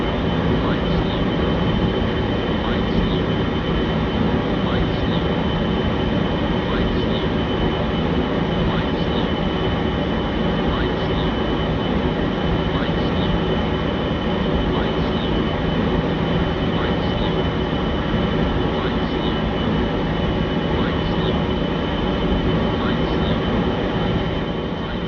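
A FlyJSim Boeing 727-200 touches down in a flight simulator, its jet engine noise a loud, steady roar with faint whining tones that holds without pause throughout.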